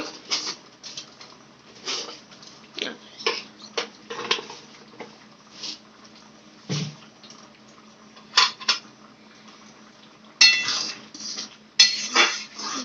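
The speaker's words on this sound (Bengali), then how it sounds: "চিনি আর গরম মশলা দিয়ে একটু নাড়িয়ে নিল" A spoon stirs ghugni, a vegetarian dried-pea curry, in a pot after sugar and garam masala go in, producing repeated scraping clinks and metallic knocks at an uneven rhythm, louder bursts near the end, with faint background hum.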